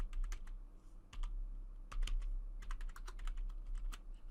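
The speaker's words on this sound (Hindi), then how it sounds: "दोबारा से री एंटर कर देते हैं ये पासवर्ड।" A computer keyboard being typed on to enter a password, with quick irregular bursts of crisp key clicks over a steady low hum and no speech.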